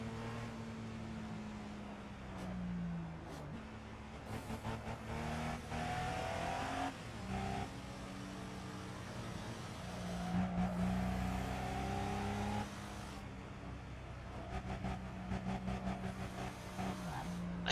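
A classic car drives along a Japanese highway in a driving game, a steady engine drone with shifting revs and gear changes, close and continuous, with brief tire and wind noise.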